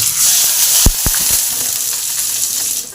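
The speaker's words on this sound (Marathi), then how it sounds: "हे थोडंसं कुरकुरीत भाजून घेतलं." Food dry-roasting in a kadhai until crisp, with a steady close sizzle and hiss running throughout and a few sharp stirring scrapes near the start.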